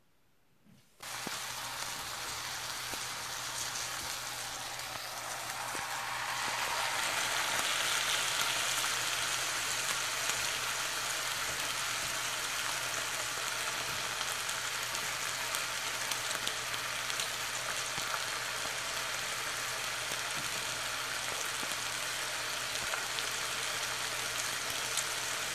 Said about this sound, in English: It's just the bacon press in action, working, cooking some bacon.